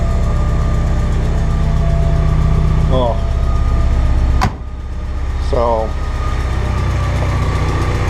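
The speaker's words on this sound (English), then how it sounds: "I guess it's got a little bit of an exhaust leak" A 1986 Porsche 944 non-turbo engine idles with a steady, rumbling drone throughout, with a slight exhaust leak, a sharp click cutting in midway, while a person speaks briefly over it.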